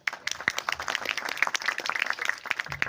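Audience clapping at a Karawang performance of Manuk Dadali: dense, steady applause of many hands with sharp individual claps, sustained for a few seconds.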